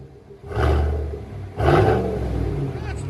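Two deep revs from a 2021 Chevy Silverado Z71 with a Borla Touring cat-back dual exhaust, close and loud, each burst rising then settling into a throaty rumble.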